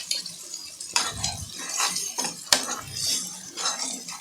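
Utensil scraping and clinking in a pan as soya curry masala is stirred, with irregular metallic scrapes and a couple of sharp taps, fairly close and without talk.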